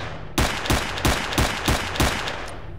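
Six evenly spaced rifle shots ring out in STALKER: Shadow of Chernobyl, each a sharp, loud crack with a short tail, fired alone at a steady semi-automatic rhythm.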